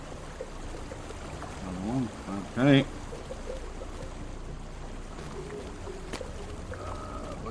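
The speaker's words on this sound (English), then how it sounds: "The rumbling falls converge into a small body of water" Rumbling waterfall in the online game DDO (Dungeons & Dragons Online), a steady wash of falling water feeding a small pool, running continuously under brief voices and a faint musical tone.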